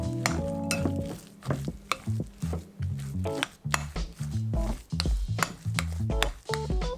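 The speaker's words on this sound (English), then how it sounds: "In goes 2 tablespoons of Japanese mayonnaise, a teaspoon of white wine vinegar, and mingle them all together." Potato salad with bacon, Japanese mayonnaise and white wine vinegar is stirred in a bowl, giving a close series of rhythmic wet scraping and light clinking strokes that repeat steadily throughout.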